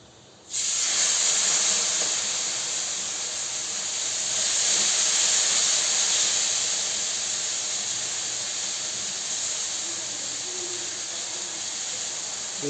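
Rava dosa batter hitting a hot oiled pan gives a steady, close hiss of sizzling that starts suddenly and holds for several seconds, swelling slightly midway, with no talk.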